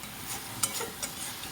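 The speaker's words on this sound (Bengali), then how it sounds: "আর এখন আমি গ্যাসের আঁচটা একদম বাড়িয়ে দিয়েছি, আর এইরকমভাবে কনস্ট্যান্ট নেড়ে যেতে হবে" Sweet pithe filling of cashew and raisin paste stirred constantly in a pan over a high gas flame: soft scraping strokes over a faint sizzle, with two sharper spoon taps.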